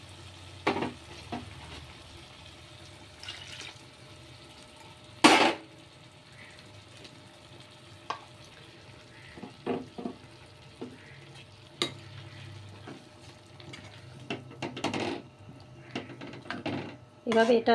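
A pot of vegetable sabudana khichuri simmers while a spoon stirs and scrapes it, giving soft bubbling with scattered knocks and clinks of the utensil, and someone speaks briefly over it.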